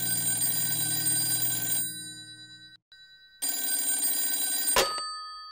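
A telephone rings in two loud electronic bursts separated by a short silence, with a sharp click as the second burst ends.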